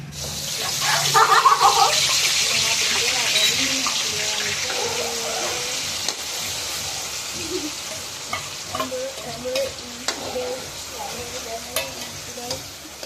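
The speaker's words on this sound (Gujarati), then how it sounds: "તો આપણે હવે પાઉંભાજીનો વઘાર કરી લઈશું।" Pav bhaji being tempered in hot oil in a home kitchen, a loud burst of sizzling and frying under steady stirring, easing into a lighter simmering crackle with occasional scrapes.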